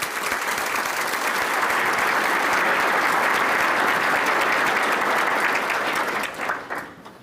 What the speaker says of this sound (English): I'd like to ask for a round of applause for our sponsor